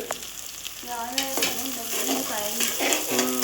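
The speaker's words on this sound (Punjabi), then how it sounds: "ਸਰਬ ਬਣਾ ਰਿਹਾ ਜੀ ਪੋਹਾ ਤੁਹਾਨੂੰ ਦਿਖਾ ਦਈਏ ਆ ਦੇਖੋ ਜੀ ਪਿਆਜ਼ ਭੁੰਤੇ" Onions sizzle in a hot pan for poha, a steady frying crackle with scraping stirring strokes and a few tonal clinks, close and moderately loud, with no one talking.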